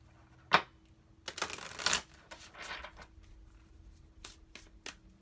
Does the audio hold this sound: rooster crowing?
no